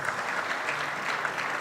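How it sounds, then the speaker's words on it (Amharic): An audience applauds at the premiere of the Ethiopian film 'Tila', a steady, dense patter of many hands clapping together without pause. "በድጋሚ ጭብጨባ ናይስ"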